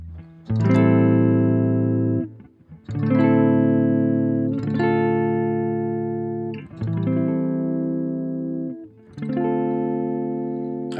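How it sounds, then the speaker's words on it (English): Electric guitar through a humbucker neck pickup, five sustained strummed chords each ringing out about two seconds with a clean, warm tone, alone with no talk. "I'm liking what I'm hearing on that neck pickup."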